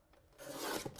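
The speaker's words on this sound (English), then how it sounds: "I'm just going to trim it down here." A short, soft rasping cut as a watercolour card is trimmed, close and quiet, lasting under a second.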